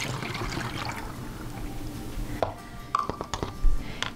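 Distilled water pours into a homemade green cleaning spray bottle, a close gurgling stream that tapers into a few faint trickles and splashes toward the end.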